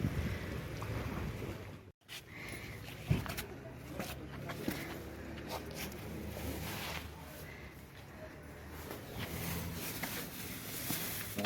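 Sea waves wash and rumble continuously along a shore during a seaside outing, mixed with heavy wind buffeting against the microphone and a brief dropout near the start.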